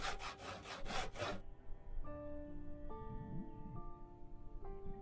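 In the video game Project Zomboid, a saw cuts through logs with about five quick, rhythmic rasping strokes, then stops as soft tonal game music notes take over.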